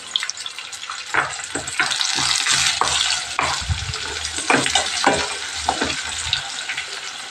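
Onions sizzle loudly in a hot pan, a steady hiss of frying broken by scraping, clattering stirs, with no voices over it.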